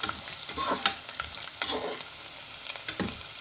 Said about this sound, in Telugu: తర్వాత వెల్లిపాయ వేసుకోండి. మిక్స్ చేయండి బాగా.